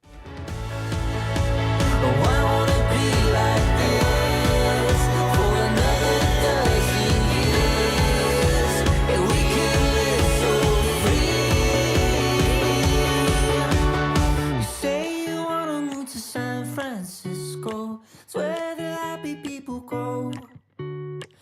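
A recorded song plays loudly with full instrumentation, then thins out toward the end into sparser, choppier chords.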